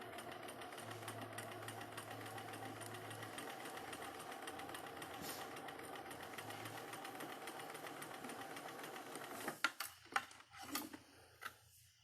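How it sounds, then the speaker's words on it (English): A domestic sewing machine stitches quilt fabric pieces, a steady close mechanical hum with fine rapid ticking that runs for about nine seconds before stopping, followed by a few handling clicks and knocks. "So now I'm going to go ahead and sew that."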